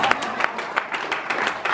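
Audience members clap at a city council meeting on a homeless state of emergency: a loose, sparse run of hand claps repeating roughly every third of a second, fairly close, with murmuring voices underneath.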